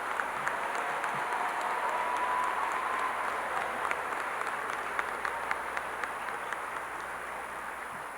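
Steady applause from a large crowd at a high school graduation, many hands clapping continuously at an even level throughout, heard from a distance in a big room.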